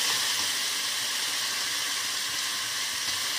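Cooking liquid for a vegetable curry of eggplant, yardlong beans and potato bubbles in a pan with a steady close hiss and sizzle, with no talking over it.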